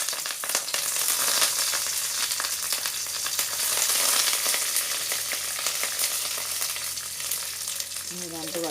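Curry leaves hit hot oil for a banana flower stir-fry, setting off a loud, steady crackling sizzle with bursts of popping, and a brief stirring scrape near the end.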